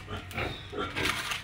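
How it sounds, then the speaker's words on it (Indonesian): Pigs grunt and snuffle in a pen on a farm, a soft continuous low muttering with some scuffling noise, fairly close but not loud. "Jadi ini ada ternak-ternak babi saya sehingga mereka tetap"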